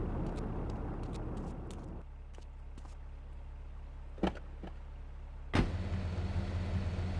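A Stallion muscle car from GTA III, a Mustang-style car, idles with a steady low engine rumble. Two brief sharp clicks or thumps break in, and the engine note then shifts into a louder, fuller hum.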